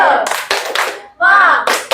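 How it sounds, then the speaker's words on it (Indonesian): Classroom students do a rhythmic spirit clap, loud and close, in short bursts with brief pauses, with children's voices chanting along between the claps. "Tepuk semangat."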